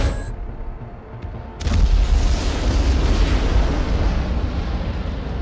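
Rocket blasts in Call of Duty: Modern Warfare III, a sudden loud boom that swells into a sustained, rumbling roar of explosions.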